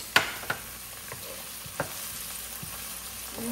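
Garlic sautéing in a pan for ginisang munggo, a soft steady sizzle with a few sharp clicks and stirring scrapes near the start, no talk.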